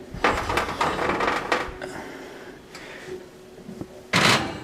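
An oven door clunks open, with a clatter of pans as a Halloween-themed pound cake slides in, then shuts with a firm bang; the handling sounds are close, with quiet gaps between them.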